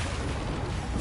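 A Confringo blast spell cast in the Hogwarts Legacy video game, a dense, loud, rumbling explosive burst filling the whole short moment.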